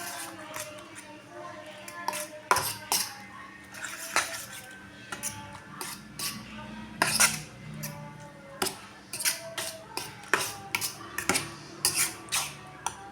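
Utensils clink and scrape against a bowl while ingredients for a sweet potato leaf omelette are mixed, a steady run of close, uneven taps and scrapes with a soft voice in the background.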